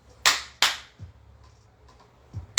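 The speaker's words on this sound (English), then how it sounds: "I'm gonna clap today for some reason" Two sharp, loud hand claps close together near the mic, followed by fainter soft taps and a last clap at the end, in a quiet room.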